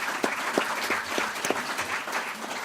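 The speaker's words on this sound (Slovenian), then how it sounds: "Prosim, en aplavz za razpravljalce na prvi okrogli mizi." Audience applause for the panelists of a conference round table, steady rapid clapping from a medium-sized crowd, moderately loud and continuous throughout with no talk over it.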